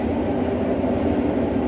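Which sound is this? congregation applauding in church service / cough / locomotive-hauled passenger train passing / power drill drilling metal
locomotive-hauled passenger train passing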